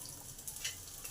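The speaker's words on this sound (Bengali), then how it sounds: "আলুটাকে গোটা গোটা রাখার জন্য আগে 5 মিনিট ভালো করে ভেজে নেব" Potato pieces frying in hot oil with garlic and green chilli for a bhindi aloo masala, giving a steady, soft sizzle throughout with no voices.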